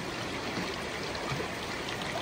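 An icy mountain river in Spiti rushes past in a dense, unbroken roar of flowing water, close and steady throughout with no voices.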